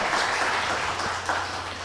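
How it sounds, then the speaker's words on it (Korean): A church congregation at a Sunday service claps together in steady, dense applause that fills the room evenly throughout. "우리 하나님께 영광의 박수 하겠습니다"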